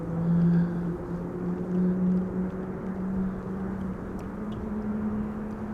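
A KLM passenger jet inbound from Las Vegas arrives at Amsterdam Schiphol on a windy day, its steady engine drone with low tonal hum holding throughout at moderate distance over a broad rushing wind-like wash.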